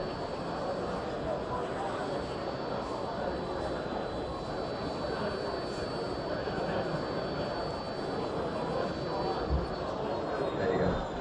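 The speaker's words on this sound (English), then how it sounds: "You can hear the engine rev start to die away." A small turbine engine runs through its shutdown sequence, a steady broad whooshing roar with a faint high whine that gradually eases off, heard fairly close and alone.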